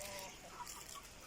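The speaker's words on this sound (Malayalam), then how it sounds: "നാടൻ കോഴികൾ അവിടെയാണ്" Native chickens clucking softly at some distance, a few faint, scattered clucks over a quiet, steady background.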